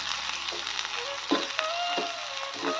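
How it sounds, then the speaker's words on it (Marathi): Garlic and onion sizzle steadily in a pan, being sautéed until reddish-brown, with a few soft stirring clinks over the continuous close, moderately loud frying hiss. "त्याला छान लाल होईस्तोवर परतून घ्यायचंय"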